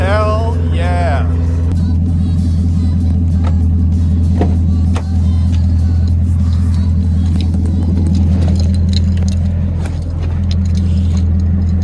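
A Chevrolet Camaro SS engine starts and runs after a battery replacement, idling with a loud, steady low rumble, with a brief rev near the start and occasional clatter over the top of the noise.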